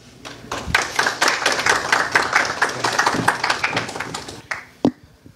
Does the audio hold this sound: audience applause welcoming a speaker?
yes